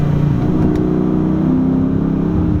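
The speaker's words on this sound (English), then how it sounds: "just really opening up this Hemi V8 just sounds really nice" 2014 Dodge Challenger R/T with its Hemi V8 revving hard in second gear, a loud, close, deep continuous engine roar throughout.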